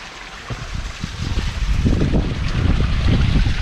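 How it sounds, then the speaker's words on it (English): Water runs out of sight in a stream below a small footbridge on a coastal path walk, a low rushing gurgle that grows louder and fuller partway through, with some wind buffeting. "You can hear the water, can you?"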